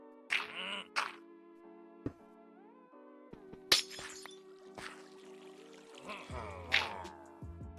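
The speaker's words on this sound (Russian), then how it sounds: "Ломаем это стекло" Glass blocks shatter in Minecraft, a few sharp crisp breaking sounds spaced out over several seconds, with soft clinks and background game music.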